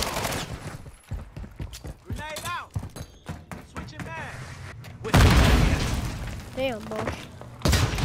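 Pistol and other gunfire rattles through a match in a shooter video game, with loud bursts and booms recurring across the stretch, partly under excited talk from players.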